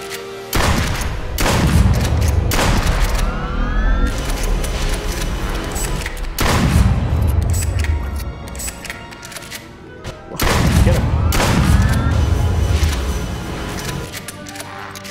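Golden gun gunfire in a VR duck-hunting video game: three heavy booming shots, each followed by a long rumbling decay, spaced a few seconds apart and loud and close.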